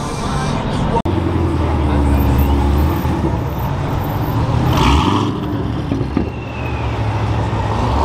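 A boosted Dodge Scat Pack drives past on a busy roadway, its engine rumble swelling and fading over traffic noise and crowd chatter, with a sharp click near the start.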